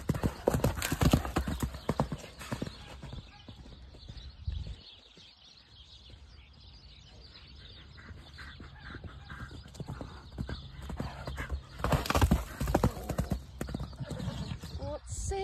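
A mare galloping, hooves clip-clopping loudly and fast with neighs and whinnies, while excited people shout and talk nearby; the pounding eases mid-clip then returns strongly.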